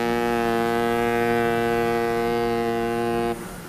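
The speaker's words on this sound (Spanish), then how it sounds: "el estridente sonido de la sirena resquebrajaba el aire helado" A long, steady, loud ship siren blares on one sustained tone in cold, damp South Atlantic air, then cuts off abruptly near the end, leaving a lower rumble.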